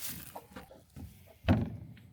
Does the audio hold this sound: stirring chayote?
no